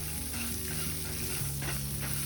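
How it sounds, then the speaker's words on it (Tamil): Soft sizzling of coconut and vegetables frying in a pan, with a few gentle scraping strokes of stirring; quiet and close, no voices. "இந்த தேங்காவை சேர்த்துட்டு கலந்துட்டு ஒரு வாட்டி நல்லா கலந்துக்கலாம்."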